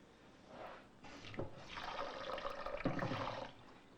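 Water is poured over washed rice in a pot for cooking: a soft, steady rushing splash that swells and runs for about two seconds, fairly faint, with no talking.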